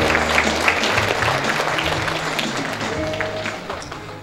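An audience at a book launch event claps together, a dense, loud burst of applause lasting the whole moment and slowly easing off toward the end.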